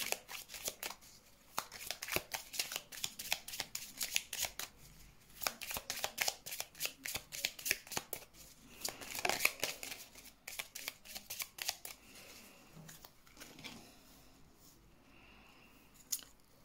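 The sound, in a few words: tarot cards being shuffled for a reading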